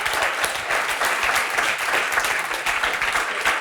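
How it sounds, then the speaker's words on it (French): An audience at a Veuve Clicquot New Makers collective round table breaks into continuous, dense clapping, even and fairly close, lasting throughout without talk. "j'aimerais que vous l'applaudissiez"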